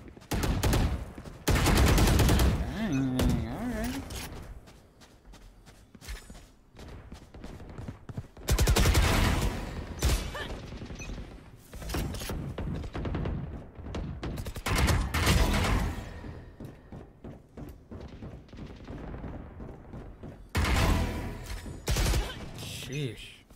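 Gunfire in Valorant comes in rapid bursts of shots and fusillades, loud and close, separated by quieter gaps, with a voice talking between the volleys.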